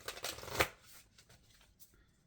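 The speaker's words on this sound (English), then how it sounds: "getting some cards from the Moonology deck" Moonology oracle cards being drawn and shuffled from the deck, a brief flurry of papery riffling and slides up close, fading to faint handling.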